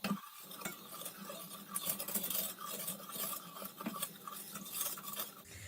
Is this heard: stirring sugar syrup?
yes